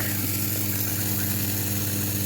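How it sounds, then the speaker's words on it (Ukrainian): A portable generator runs steadily at close range, a continuous loud engine hum with a constant drone and no pauses, heard alone without talk. "І генератор відразу, друзі, переключився на слабшу потужність"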